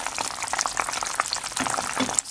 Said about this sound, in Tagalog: itong niluluto nating latik